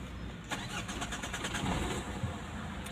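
Car engine cranking and catching after a repair on a motor with two dead fuel injectors, a rapid starter whir that settles into a steady, fairly loud idle at close range.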